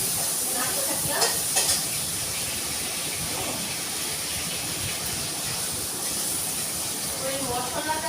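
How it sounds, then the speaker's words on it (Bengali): Tomatoes and spices stirred in hot oil in a pan, a steady sizzling hiss throughout with occasional scraping clinks of the spoon, close and fairly loud. "নাড়তে থাকলাম।"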